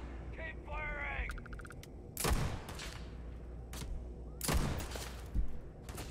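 Gunfire in Starfield comes in two sharp loud bursts a couple of seconds apart, with a smaller shot near the end, alongside electronic game chirps and a voice talking under the action.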